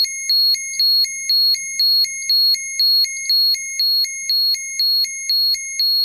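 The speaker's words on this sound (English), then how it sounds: "it's already setting off the alarm" Soviet DP-63-A radiation survey meter alarm sounds a rapid, regular series of shrill electronic beeps, about thirteen evenly spaced pulses, loud and close with no talk.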